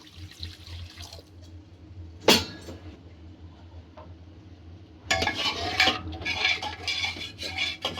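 Water is poured into a pressure cooker in a home kitchen while haleem is being made, giving a splashing, gurgling pour close up after a sharp metallic clank, with some dish and utensil handling beforehand.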